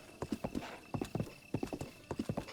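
Horse hooves clip-clopping in Zelda Breath of the Wild, a steady trotting rhythm of grouped hoofbeats, close and clear with no talking.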